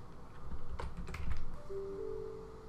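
Computer keyboard keys tapped to type a meeting subject in a scheduling window, a short burst of quick, close clicks with a brief tonal chime near the end and no speech.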